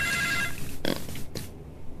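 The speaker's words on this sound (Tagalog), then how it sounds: "Agon uni ba ti cellphone ng impati na kadyak?" A mobile phone ringtone chimes in a Filipino domestic drama scene, a bright melodic ring for about half a second, followed by rustling and handling noises with no speech.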